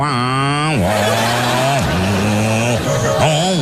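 A motorcycle with a loud aftermarket exhaust is warmed up, its engine revving in several rising and falling bursts with a harsh, buzzy tone, close and loud throughout.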